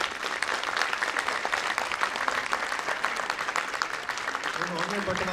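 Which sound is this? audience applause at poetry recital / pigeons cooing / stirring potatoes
audience applause at poetry recital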